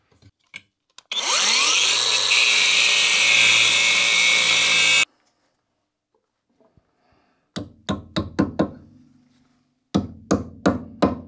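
A power tool grinds loudly and steadily for several seconds while cutting through a bolt on a Ford Escort 1.6 16V, then stops abruptly, followed later by a series of sharp knocks.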